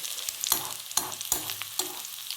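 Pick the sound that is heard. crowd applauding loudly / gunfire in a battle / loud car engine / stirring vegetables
stirring vegetables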